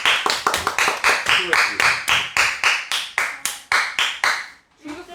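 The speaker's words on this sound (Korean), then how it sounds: "박수" Classroom group clapping after a Korean reading-school lesson, a rapid run of sharp hand claps repeating steadily for several seconds, close and fairly loud, ending with a brief spoken phrase.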